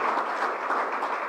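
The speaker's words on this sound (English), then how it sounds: "We are clapping for the royal princess" An audience claps for a royal princess at a gathering, producing a short burst of steady, even applause with no voices over it.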